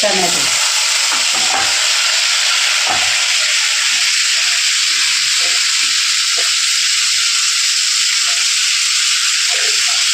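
Chili and garam masala frying in oil with onion for chicken pulao, a loud, steady hissing sizzle with occasional stirring scrapes and no voices.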